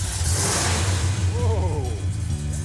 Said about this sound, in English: You can't mistake a big block engine lope.